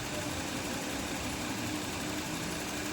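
A Kia K7 GDI V6 idles with a cylinder misfire on bank 2, giving a steady, close engine rumble with an uneven, shaky undertone. It runs alone with no talking.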